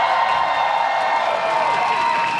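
Concert crowd at a Hong Kong pop show roaring and cheering continuously, a dense sustained wash of voices and screams with no pauses.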